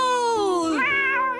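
A voice imitates a cat's meow: one drawn-out, whiny call that slides down in pitch and then lifts again, loud and close.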